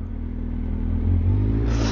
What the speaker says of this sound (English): Fucking hell, that's a really nice car.